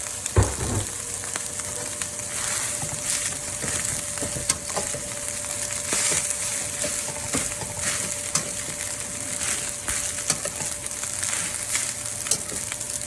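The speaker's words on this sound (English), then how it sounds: "I heat up my rice so it's nice and hot already and put it in." Pre-heated rice frying in a pan for fish fried rice, a continuous close sizzle with light crackles and scraping taps of stirring, no speech.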